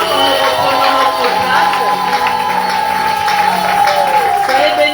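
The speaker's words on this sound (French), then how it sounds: "Applaudissons pour le Seigneur quand nous reprenons notre" A church congregation claps and cheers for the Lord with whoops and shouts, dense and continuous throughout, with voices raised over the applause.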